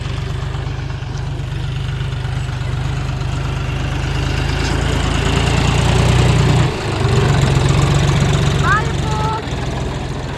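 A tractor engine runs on a farm plot, a loud, steady low drone close by that holds for about ten seconds with a brief dip near the middle.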